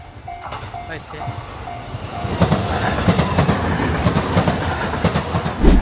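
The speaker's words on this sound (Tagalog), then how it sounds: "Dito na yung train." A train pulls into a station in Japan in summer, its rumble and clickety-clack building from quiet to loud. Voices and a few short beeps are heard early on.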